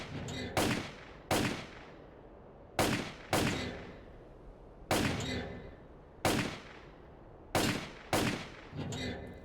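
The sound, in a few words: gunfire from rifle shots in STALKER: Clear Sky video game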